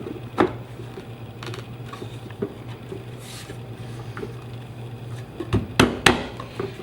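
A rubber mallet knocks a kitchen base cabinet panel down into its groove, giving a few dull, soft thumps scattered across the stretch and a cluster near the end, close up over a low steady hum.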